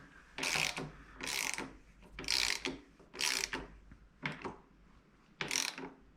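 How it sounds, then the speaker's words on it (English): The adjusting screw on a KTM 1190R motorcycle's rear shock is turned with a tool, giving about six short bursts of quick ratcheting clicks, close and fairly quiet, with brief pauses between bursts. "Turn the adjusting screw all the way clockwise."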